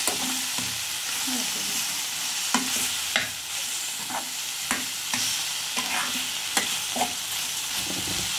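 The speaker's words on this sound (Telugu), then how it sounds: "మధ్యలో ఇలా తిప్పుకుంటూ ఉంటే కొంచెం పైకి ఇస్తాను." Amaranth leaves fry and sizzle in a pan while being stirred, giving steady crackling broken by several sharp scraping strokes of the spoon, close and alone with no talking.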